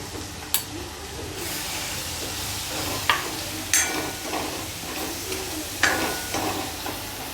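Kashmiri chilli powder sautés in hot oil for a dal tadka with a constant close sizzle, and a few sharp spoon scrapes and taps mark the stirring.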